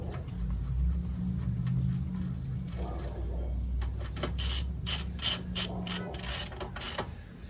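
A hand ratchet snugs the top bolt on a Honda GL1500 Goldwing motorcycle's rear air suspension, first muffled low rumbling, then a run of sharp, rapid clicking strokes close by in quick bursts.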